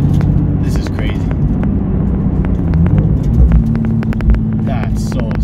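A Nissan 370Z fitted with an RJM clutch cruises slowly through a neighborhood, its engine a steady low rumble heard from inside the cabin. A person talks over the engine throughout.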